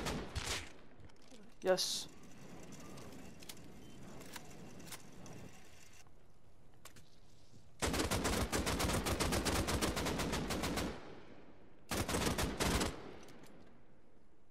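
Video game gunfire comes in rapid, dense automatic bursts, with a long stretch near the middle and a shorter one near the end. Quieter shots and clicks fill the gaps, and a voice speaks briefly.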